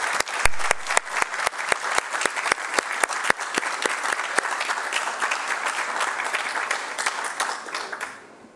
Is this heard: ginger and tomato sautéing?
no